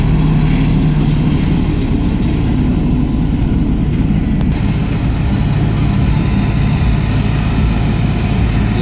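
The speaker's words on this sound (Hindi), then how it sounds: "भाई कुछ ज़्यादा ही रेस पर चला रहे हैं ट्रैक्टर है" A New Holland 3630 tractor driving a straw reaper at high revs in a field, a loud, steady low engine drone with machinery rumble that runs unbroken and close throughout.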